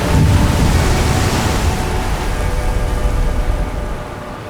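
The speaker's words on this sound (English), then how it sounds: "when you just listen to the sound of the waves" Sea waves surge and wash inside a coastal sea cave, a broad, booming roar that stays loud and continuous before easing slightly toward the end.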